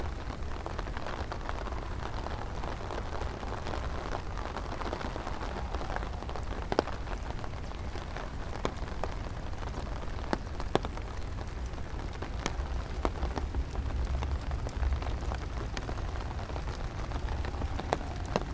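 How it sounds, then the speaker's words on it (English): Wintry mix of rain and light snow falls in Central Park, New York City, a steady dense hiss of drops on surfaces with occasional sharper ticks and a low rumbling city backdrop, no talking. "A little bit of rain, a little bit of snow,"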